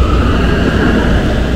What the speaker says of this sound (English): Okay, train is moving out.